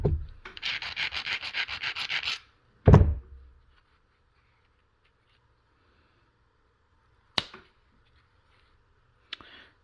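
Green glass is being flintknapped, with thinning flakes struck off. A couple of seconds of scraping and rubbing come first, then a sharp knock, followed later by two isolated clicks against near silence.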